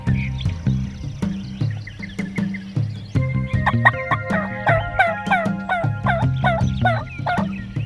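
Several wild turkeys in Nebraska gobble and cluck in rapid overlapping bursts, fairly close and lively, with a busy chorus building partway through.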